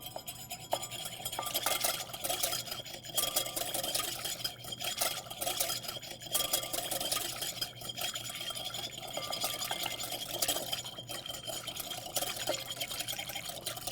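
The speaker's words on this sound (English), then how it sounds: "and you whisk fast" Olive oil is whisked into lemon juice for a Greek dressing, a fast continuous rhythmic whisk scraping a bowl with faint liquid splashing, close and steady throughout.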